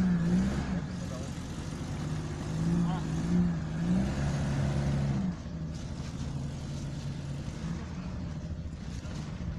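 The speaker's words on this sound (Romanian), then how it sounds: "Bucată cu bucată, fiecare mașină urcă." Suzuki Vitara 4x4 off-roaders climb a muddy slope one after another, a moderately distant engine note rising and falling under intermittent voices.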